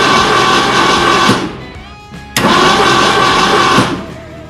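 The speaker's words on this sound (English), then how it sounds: "Now that we have the engine turning over" Starter cranking on a 1975 Ford Mustang II engine, a loud steady churning whir that runs about a second and a half, drops briefly, then resumes for another long burst before fading.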